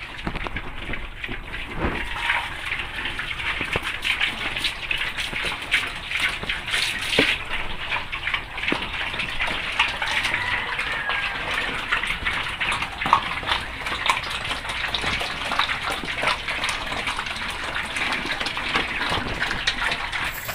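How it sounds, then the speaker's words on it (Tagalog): Continuous splashing and gushing of water poured over dry feed for pigs, steady and fairly loud for the whole stretch, with a few faint knocks mixed in. "maglagay tayo ng konting tubig"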